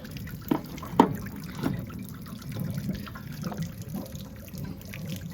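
Water drains and trickles from the plumbing of a Rockwood travel trailer being winterized, a low steady wash broken by a few louder splashes and drips near the start.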